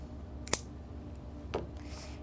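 Scissors snip through a tail of fabric on a sewing project, likely denim or apron cloth, with two crisp close cuts about a second apart, the first sharper, over a quiet room hum with no talking.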